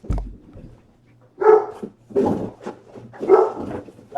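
A dog barks in three loud, close bursts spaced about a second apart, with quiet gaps between, during a baseball card break.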